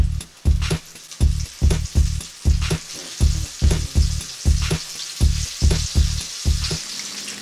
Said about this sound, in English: I'm just going to dump these into my oil very carefully.